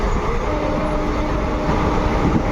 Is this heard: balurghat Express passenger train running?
yes